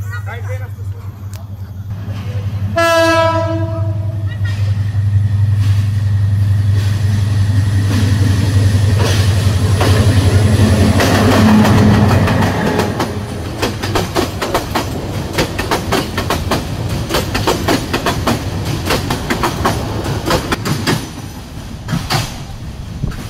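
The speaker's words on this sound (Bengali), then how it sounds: "এই যে ঐতিহাসিক সেই ট্রেন আসতেছে দেখতে পাচ্ছেন, লাওয়াছড়া বনের ভিতর দিয়ে যাবে" A historic train on the Sylhet line through Lawachara forest sounds a loud horn blast, then rumbles past with rhythmic wheel clatter that gradually thins out as it moves away.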